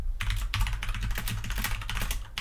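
Rapid, uneven clatter of fingers typing on a computer keyboard, close and continuous, with no speech.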